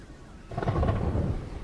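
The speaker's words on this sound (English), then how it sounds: "It's so loud with the thunderstorms." Thunderstorm in Terraria, a low rolling rumble of thunder that swells suddenly about halfway through over a steady wash of rain, no speech.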